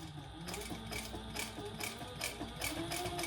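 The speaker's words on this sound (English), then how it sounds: "So I'm just going to sew that." A sewing machine runs a long basting stitch on a small Monarch mini crossbody bag, a faint, quick rhythmic whirr with a regular pulse throughout.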